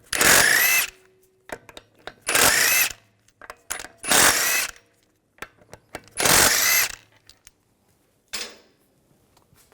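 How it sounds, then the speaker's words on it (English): Impact gun bursts spinning a 17mm socket to loosen lug bolts on the front wheel of a 2006-2010 BMW 550i, four loud separate whirring runs of about a second each, with small ratchet clicks and rattles between them. "Use a 17mm socket to take the lug bolts out"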